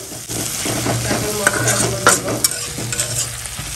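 Ginger garlic paste sizzling and being stirred in a pan with fried onion and tomato, a steady close frying hiss with spoon scrapes and clicks throughout.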